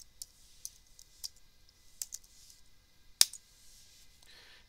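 Sparse light clicks of typing on a computer keyboard while entering a story title in broadcast newsroom software, a few separated taps with one sharper click, quiet and close with no talk.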